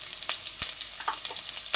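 Garlic and green chillies drop into hot oil already holding tempering spices for a ridge gourd and chana curry, giving a steady bright sizzle broken by sharp crackling pops, close and without voices.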